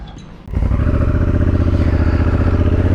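A Honda Africa Twin motorcycle engine starts up and settles into a loud, steady, throbbing idle close by.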